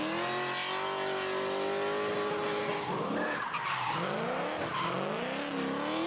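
A voice mimics drifting cars, producing long, continuous squealing and swooping tones that rise and bend like skidding tires, loud and close and without any spoken words.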